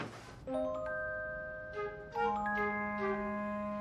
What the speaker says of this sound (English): Fire alarm.